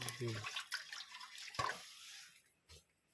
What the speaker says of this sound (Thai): ต้องเฮ็ดให้สะอาด นี่จะล้างอีกน้ำหนึง